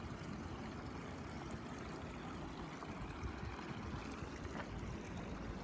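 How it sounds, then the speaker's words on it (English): A small river trickles through an old abandoned ford in the Cleveland Metroparks, a soft, continuous broadband wash of flowing water that stays steady and faint throughout, with no voices. "And just a little bit of river trickling through today."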